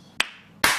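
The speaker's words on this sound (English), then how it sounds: "Synchronized clap." Two sharp hand claps in a kitchen, a quick thin one followed about half a second later by a louder, fuller clap with a short ringing tail, close by with no talk.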